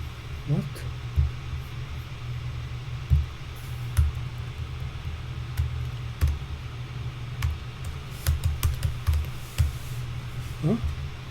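Scattered clicks of typing on a computer keyboard, irregular taps over a steady background hum, close and fairly quiet with no one speaking.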